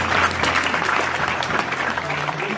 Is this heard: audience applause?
yes